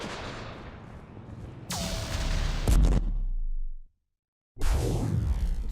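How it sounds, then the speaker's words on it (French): Heavy gunfire in the Mass Effect 3 video game pounds in dense, rapid bursts with a rising whine, cuts to a brief silence, then resumes with loud, close shooting. "On subit des tirs nourris."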